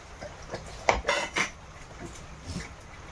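Dal, green beans and a tomato go into a pressure cooker with a few sharp metallic clanks and scrapes, clustered in the middle, followed by lighter taps.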